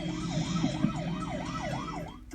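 Police sirens wail in Grand Theft Auto 5 as numerous police cars and helicopters chase behind, a steady rising-and-falling siren sweep over a dense engine rumble, loud and continuous before cutting off abruptly at the end.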